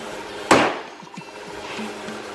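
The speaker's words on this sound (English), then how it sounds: "he's going to take a hammer to it and see how hard the stop is" A single sharp hammer blow on a Formica HardStop wall protector panel, close and clear, followed by faint small taps and a quiet room.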